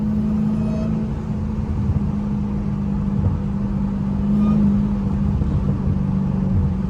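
A Dodge Hellcat sits with its engine running, a steady low exhaust rumble and drone holding constant and close with a slight swell midway, no talking.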